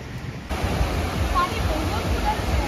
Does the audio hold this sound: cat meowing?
no